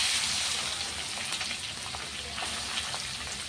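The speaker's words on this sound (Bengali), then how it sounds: "তেলটা হয়ে গেছে, মাছটা দিয়ে দিই" Tangra fish laid into hot oil in a pan, a steady dense sizzle running close and fairly loud throughout, with a faint crackle and pop over the continuous frying hiss and no talk.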